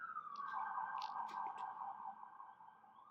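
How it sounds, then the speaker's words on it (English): Police siren passing outside, a steady wavering wail that is faint and distant, with faint higher tones flickering over it and slowly fading. "there's a lot of sirens here"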